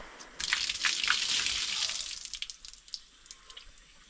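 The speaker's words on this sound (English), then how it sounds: "Jungle shower." Water pours from an outdoor jungle shower in the Borneo rainforest, a bright hissing gush that starts suddenly, holds strong for a couple of seconds, then thins into lighter spattering and drips.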